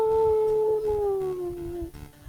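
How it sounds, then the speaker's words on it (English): A deep, mournful howl rises then slowly falls in pitch, sustained for about two seconds and loud and near, fading out as a few soft clicks follow. "A deep, baleful howl boomed through the woods."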